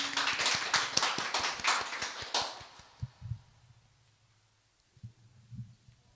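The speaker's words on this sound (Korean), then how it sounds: "박수로 청해 듣겠습니다" A short burst of audience applause at a spring concert, dense and even, fades out within a few seconds, followed by quiet low thumps.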